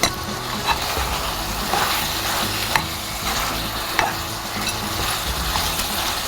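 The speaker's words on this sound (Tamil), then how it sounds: "கறி லீவ்ஸ் ஆட் பண்ணிக்கலாம்." Curry leaves fry in hot oil in a pan, where they are being added while making Pallipalayam chicken, and they give a dense, steady sizzle marked by occasional stirring clicks. No voice is heard.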